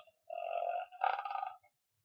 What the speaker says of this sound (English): Belch, I know that smelled a little.